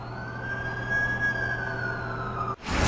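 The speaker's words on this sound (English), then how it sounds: "That's the ambulance I called." A steady ambulance siren in The Amazing Spider-Man 2 wails at a constant pitch over low rumbling engine noise, then a sudden burst of loud noise cuts in at the end.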